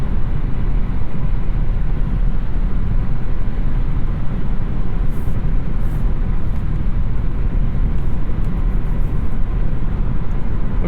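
A 2021 Kia K5 cruising on the highway at a steady 73 mph, heard from inside the cabin as a loud, unbroken road and engine drone with dense tire roar, without pause.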